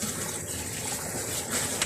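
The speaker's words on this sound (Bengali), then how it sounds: "ওখানে মামুনি ঢেলে দিল মিক্সটা, কলিজা মিক্সটা ঢেলে দিল" Liver mixture poured into a pan, a steady wet gushing and splattering pour heard up close, fairly loud and continuous for about two seconds with no talking.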